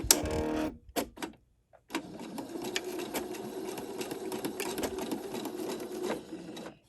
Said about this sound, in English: I'm going to go ahead and go down the center of this